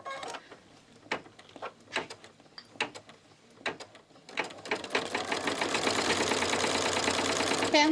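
An embroidery machine stitching an in-the-hoop USB holder in green thread gives a few scattered clicks and thumps, then settles into a continuous, fast, rhythmic mechanical whirring and clatter.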